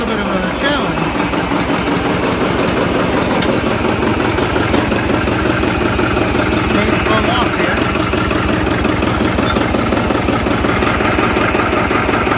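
A John Deere 820 tractor engine runs steadily while the tractor is driven, a loud rhythmic low chugging throughout, close by and continuous, with a voice talking over it.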